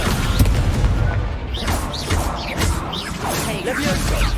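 A Crescendo spell going off in Hogwarts Legacy, one of a rapid chain of magical whooshes, booms and impacts in a duel, loud and close with swishing bursts roughly every half second.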